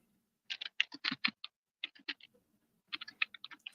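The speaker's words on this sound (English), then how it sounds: "You're almost as loud of a typer as Monica, but she's got you beat, bro." Loud, fast typing on a computer keyboard, delivered in three quick bursts of sharp clacking keystrokes with brief pauses between them in an otherwise quiet room.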